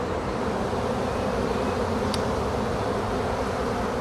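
Honeybees swarm around a wooden hive box, making a dense, steady buzz that stays close and even the whole time with no voices.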